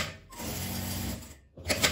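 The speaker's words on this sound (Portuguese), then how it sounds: "Com a distância de um pezinho de máquina, passar uma costura reta." A sewing machine runs a straight seam along fabric, a steady close whirring hum with a brief pause before it starts up again.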